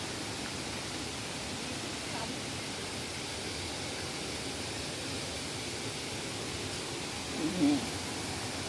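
A waterfall at Nam Tok Chet Sao Noi in Saraburi, Thailand, heard from the trail between its tiers, gives a steady, even rush of falling water that fills the scene without pause and stays fairly close and constant.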